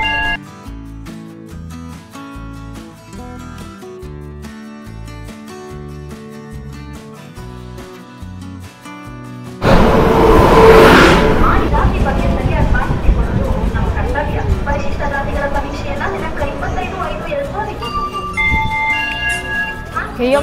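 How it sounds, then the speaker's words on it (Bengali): Music plays for the first half, then a train pulling into a railway station platform brings a sudden loud, rumbling roar that continues steadily, with people talking over it. "এই আমার ট্রেন ঢুকছে এখন।"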